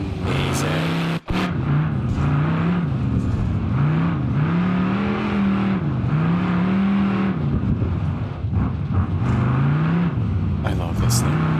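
A Bruckell Nine car engine in BeamNG.drive revs steadily, its pitch rising and falling in repeated swells under a continuous drone, with a person talking over it.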